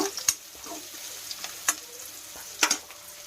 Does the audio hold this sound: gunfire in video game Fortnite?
no